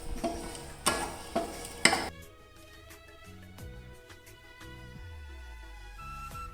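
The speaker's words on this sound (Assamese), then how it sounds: "কিচমিচ কেইটা ফুলি যোৱালৈকে মই ফ্ৰাই কৰি ল'ম।" Raisins fry in melted ghee in a pan, giving soft crackling and stirring clatter with a few sharp clinks early on, then a quieter steady sizzle.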